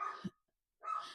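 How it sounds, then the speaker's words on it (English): Two short barks from a dog separated by a moment of silence, sharp and fairly close. "And I'm sorry if you hear the barking."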